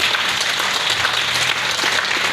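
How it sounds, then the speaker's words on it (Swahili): A church congregation claps for Jesus during a prayer service, a loud, continuous wall of many hands clapping close by, with no break across the short stretch. "Piga Yesu makofi"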